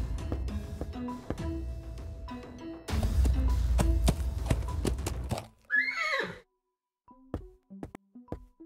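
In the video game Willy Morgan, a horse stamps and clip-clops before letting out a loud rising whinny, followed by a few quieter hoof taps and soft tones.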